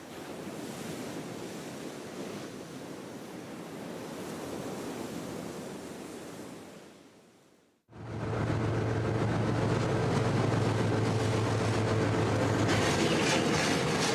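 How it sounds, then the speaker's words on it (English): A phosphate freight train runs through the Jordanian desert near Wadi Rum, linking the port with strip mines. Heavy wind roars at first, then after an abrupt cut a steady, loud diesel drone hums on. "A train links the port with 3 gigantic strip mines at the end of the Wadi Rum."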